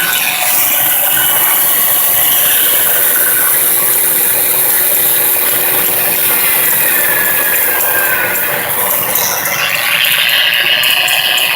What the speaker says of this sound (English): And there is the drill working constantly.